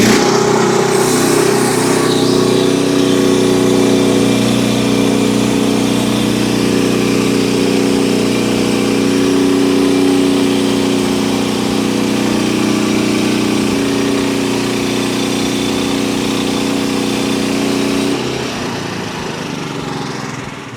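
Portable sawmill powered by a steady, loud engine drone while slabbing a red oak fence post, running continuously for about eighteen seconds before the pitch drops as it winds down.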